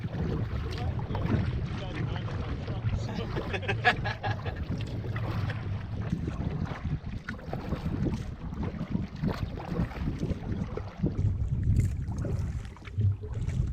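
A canoe loaded with gear is paddled across Cedar Lake in Algonquin Park, with soft water sloshing and dripping strokes under wind buffeting the microphone and occasional voices nearby.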